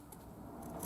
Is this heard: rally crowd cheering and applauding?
no